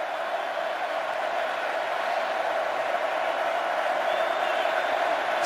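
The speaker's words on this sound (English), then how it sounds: "This crowd is bubbling." A packed stadium crowd at a Texas Longhorns versus Baylor Bears college football game roars in a steady, sustained wash of cheering, loud and distant-sounding with no pauses.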